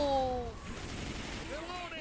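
A booming explosion in Left 4 Dead 2 with a rumbling low tail that fades out over a couple of seconds.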